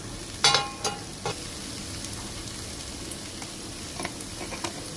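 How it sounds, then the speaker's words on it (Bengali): Carrots and tomatoes frying in a pan, giving a steady, moderate sizzle with a few sharp scrapes and clinks of stirring near the start and lighter ones later. "গাজরের পরে টমেটো দিচ্ছি, নিয়ে নাড়বো, না নাড়লে বসে যাবে তলায়।"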